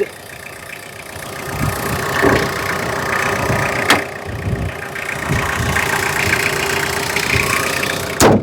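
A 2014 Tata Sumo engine runs close by, its steady idle rising and falling in small revving surges, with a few sharp clicks and no speech.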